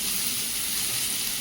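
Brinjal and bitter gourd frying with crab in hot oil, a dense continuous hiss of sizzling, close and steady, with no voices.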